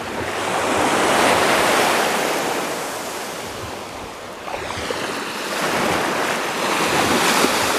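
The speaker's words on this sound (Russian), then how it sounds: "Море, море." Sea waves breaking on a beach in Spain, with wind buffeting the microphone. Loud, continuous surf rises and falls in two broad swells, and no voices are heard.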